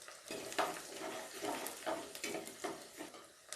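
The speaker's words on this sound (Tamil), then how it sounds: "ஒரு கை நிறையா கட் பண்ணி வச்சுருக்க பூண்டு சேர்த்திக்கோங்க. நல்லா வதக்கி விட்டுக்கோங்க." Garlic and curry leaves sautéing in a pan for vendhiya kulambu, a faint sizzle with rhythmic scraping as a spoon stirs roughly every half second, close but quiet.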